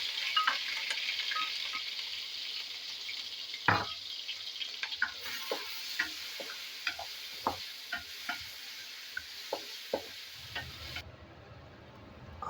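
Chopped onions fry in about a cup of hot oil, giving a steady close sizzle broken by scattered clicks and stirring scrapes, with no talk, before the hiss cuts off near the end.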